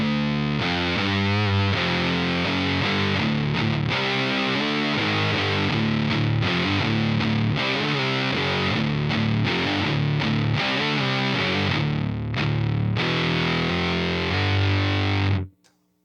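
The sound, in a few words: electric guitar with starved fuzz through TONEX amp model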